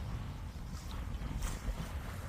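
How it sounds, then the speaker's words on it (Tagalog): Strong ocean waves and gusting wind on a beach in the early morning before sunrise, a steady broadband roar with buffeting wind noise on the microphone throughout, no talking. "Ang lakas ng alon, no? Ang hangin, guys."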